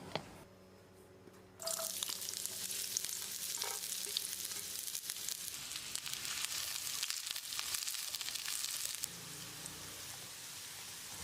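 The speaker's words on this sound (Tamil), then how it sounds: "நம்ம நறுக்கி வச்சிருந்த பாவக்காயை போட்டு ஃப்ரை பண்ணிக்கலாம்." Hot oil sizzling loudly and steadily as chopped bitter gourd fries in a pan, a constant crackling hiss with occasional stirring scrapes; no talking.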